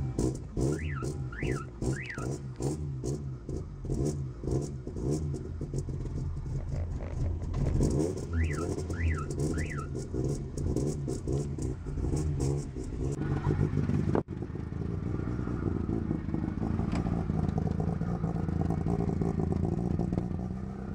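A VAZ 2112 car left standing for two weeks cranks and runs, a steady close engine rumble with clattering, rough idle and brief revving, then a change in tone partway through.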